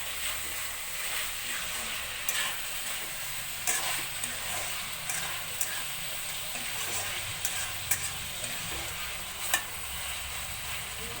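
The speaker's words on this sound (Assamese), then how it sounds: "এতিয়া অলপ লাৰি দিওঁ।" Assamese-style pork curry sizzles steadily in a pan, a close hiss with periodic scraping clicks and taps as the spoon stirs through the meat.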